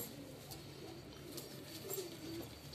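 A large pet pigeon coos softly in a quiet room, low and faint, with a few muted calls spread across a calm background.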